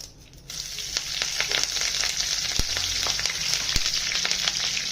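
Loud, steady sizzling of curry leaves hitting hot oil in a kadhai for tempering, with sharp crackles and pops scattered throughout.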